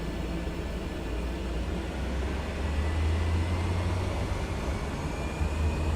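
Engines of an Inibuilds Cessna F406 Caravan II powering up on the runway in Flight Simulator 2024, a steady, continuous broadband roar with a low droning hum that rises slightly as thrust builds.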